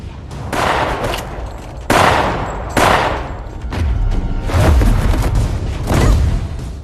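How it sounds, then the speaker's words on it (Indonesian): Video game gunfire: heavy bursts of rapid gunfire and booming shots, loud and dense, coming in several waves without pause. "hingga datanglah Letnan Tun yang ikut membantu menembaki Samidi menggunakan ulti tembakan Leslie."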